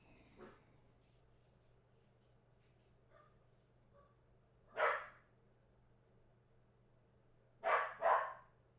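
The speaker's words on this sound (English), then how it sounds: "I don't know what he's barking at." A dog barks indoors in short bursts: one faint bark, then a louder single bark and a quick double bark a few seconds later, over a quiet steady hum.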